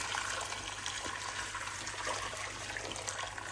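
Freshly boiled water from a kettle pours into a large cooking pan for potatoes, a steady gushing, splashing stream heard close and fairly quiet throughout.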